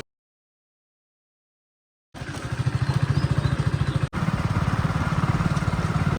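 A motorcycle engine starts up after a couple of seconds of silence and runs with a steady, throbbing idle close by, briefly cutting out and catching again midway.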